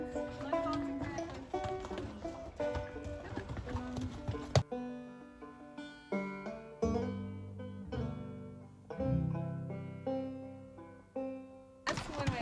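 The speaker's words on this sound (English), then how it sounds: "Here come the mules." Mules walk at the Grand Canyon South Rim, their hooves clip-clopping in an uneven rhythm under music, fairly close and moderately loud.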